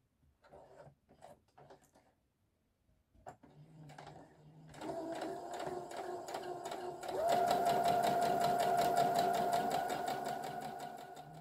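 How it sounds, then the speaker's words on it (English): Sewing machine stitching forward and then back, a few soft handling taps at first, then a steady close mechanical whir that grows louder and faster partway through. "Take a couple of stitches and then go back a couple of stitches, and those stitches are on top of each other."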